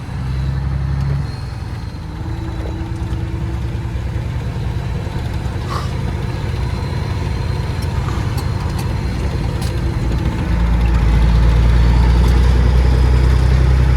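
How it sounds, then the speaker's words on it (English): A semi truck engine runs steadily throughout, a low droning rumble that grows louder and heavier toward the end, as if revving or accelerating nearby. "she couldn't hear me over my truck"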